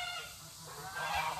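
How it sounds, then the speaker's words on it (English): Backyard geese beside a chicken yard honking, a brief burst of harsh nasal calls up close, overlapping and loud. "Yes, I have geese. They're very loud."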